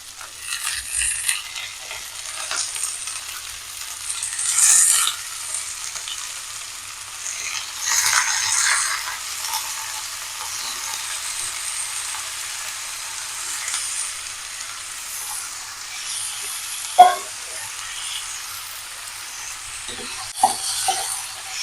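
Six large chicken leg pieces fry in a pan, making a soft steady sizzle. Occasional scraping and clinking sounds come from stirring, with one sharp tap near the end. No voices.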